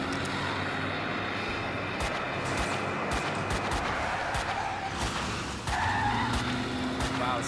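A car skids through a wheelie in the shooter Max Payne 2, a loud sustained tyre screech over a droning engine with sharp bangs scattered on top, a brief dip, then the noise surges again.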